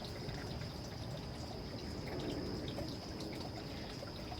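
Water poured from above onto a potted Hoya plant, a steady close trickle and splash running unbroken for the whole stretch.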